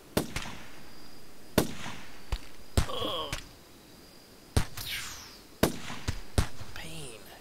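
Gunfire in the colony-survival video game Rimworld, including a sniper rifle against a pistol: sharp separate cracks at irregular intervals, several of them, with brief whooshing tones between some shots.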